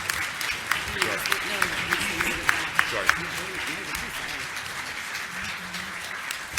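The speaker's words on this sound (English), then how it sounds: "Would you please give Paul a big round of applause?" An audience at a classical music programming talk claps for Paul: a round of applause with distinct, fairly regular claps that fades out while a speaker talks over it.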